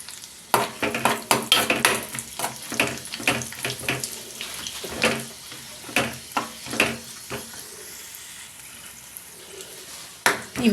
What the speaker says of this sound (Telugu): ఈ నెయ్యిలో డ్రై ఫ్రూట్స్ వేసి వేయించుకుంటున్నాను